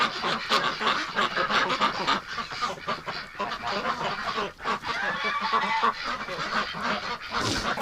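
Geese and ducks shut in a shelter against extreme cold keep up a loud, busy honking and quacking chorus, close and continuous with only brief dips.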